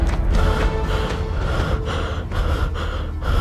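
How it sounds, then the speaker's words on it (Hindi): A man panting out of breath after a fall on stairs and a run to a friend's house, heavy gasping breaths repeating in a steady, close rhythm with no talk. "हांफते हांफते"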